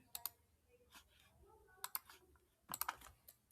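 Computer keyboard typing in short clustered bursts of sharp key clicks separated by pauses, close and fairly quiet.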